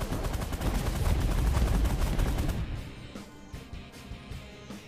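A minigun fires in the space strategy game The Last Federation, a loud, dense rattling roar that holds steady, then thins out and trails off into scattered fainter shots.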